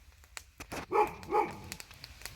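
A dog barks in the backcountry on a multi-day hike, a few sharp close barks with a couple of stronger yelping calls in the middle, against quiet outdoor surroundings.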